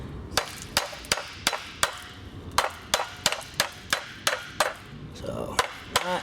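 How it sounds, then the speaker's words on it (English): Hammer tapping against a rusted rear backing plate on a 2007 Chevrolet Impala during wheel bearing work, a steady series of about fifteen sharp metallic strikes spaced roughly half a second apart, close and clear. "So it's literally just tap it, tappy tap tap."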